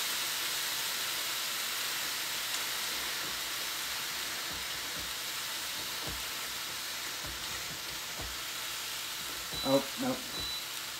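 Huli Huli chicken sears in a hot pan with a steady, moderate sizzle and hiss, alongside a few soft clanks and a brief louder stir near the end.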